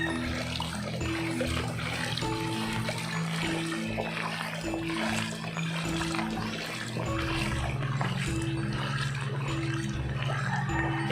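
Floodwater from the Capitangan River, swollen by a night of nonstop rain, pours across a road in a steady, loud, close rush that never lets up, with a faint humming tone running underneath.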